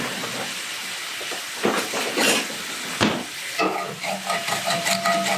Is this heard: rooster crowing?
no